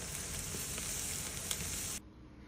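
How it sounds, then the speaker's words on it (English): Chicken pieces sizzle over hot charcoal on a grill, a steady bright hiss that holds for about two seconds and then drops away abruptly, with no talking. "Now I'm going to go ahead and char them up over the hot coals"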